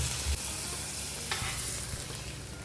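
Roasted peanuts go into pineapple gojju in a pan, bringing a soft continuous sizzle and stirring with a faint scrape or two.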